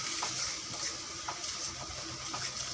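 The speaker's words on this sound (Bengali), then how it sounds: "আর এগুলো ভালো করে কষিয়ে নিব মশলাগুলো।" Spices with turmeric, chili powder, coriander powder and salt frying in a pan for a chicken and potato curry, a steady close sizzle with faint scraping stirs recurring beneath.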